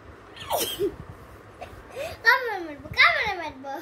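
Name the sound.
cat meowing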